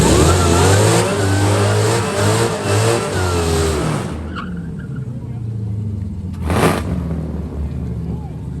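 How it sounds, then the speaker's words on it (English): Drag race cars launch hard off the line at a Speed Week event in Detroit, with a loud, close engine roar for about four seconds that then drops away, followed by a brief later surge. "They both left hard, but Weston Chaplin pulled out in front and"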